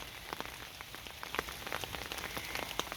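Rain droplets patter on garden leaves outdoors, a steady soft hiss of rainfall with scattered closer drips tapping irregularly, with no voices.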